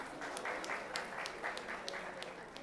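A convention audience gives a round of applause for NAREDCO and CREDAI, faint and distant-sounding, with a few sharper claps standing out from the steady patter.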